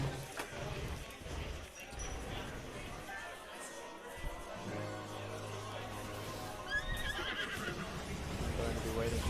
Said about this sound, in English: Riding around a little bit with our horse.